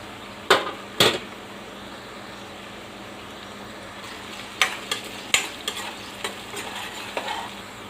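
Tempering seeds frying in hot oil in a pan, a steady close sizzle punctuated by sharp metallic spoon clacks and scrapes, two early knocks then a cluster of quicker taps toward the end, no voices.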